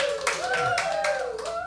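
Live studio audience at a Bronx music podcast cheering and clapping, a dense continuous wash of applause and whoops with a voice talking over it.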